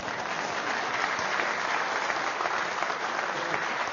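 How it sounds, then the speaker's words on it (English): Steady audience applause at a live mathemagic show, dense even clapping from a crowd, sounding slightly muffled and continuous for a few seconds. "Give them a nice round of applause."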